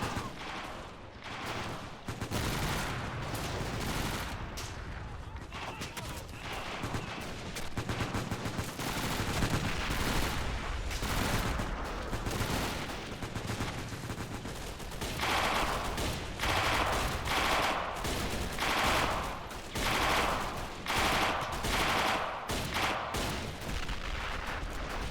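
Troops inside a building fire their weapons during a winter town battle in a war video game, with dense bursts of rifle and machine-gun fire crackling over a constant combat roar that runs throughout.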